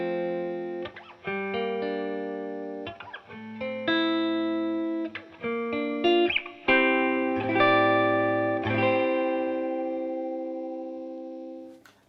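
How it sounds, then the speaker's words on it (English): A vintage 1963 Gibson ES-345 TD semi-hollow electric guitar on its neck pickup plays a slow sequence of ringing notes and chords with a warm, round tone, each left to sustain and fade. "So let's hear the neck pickup first."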